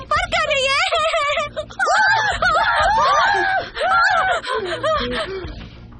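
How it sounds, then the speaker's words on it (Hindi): Someone in a Hindi-dubbed Korean drama screams in fright, loud and close, as high, wavering shrieks in repeated bursts with short breaks across the whole stretch. "क्यों चिल्ला रहे हो?"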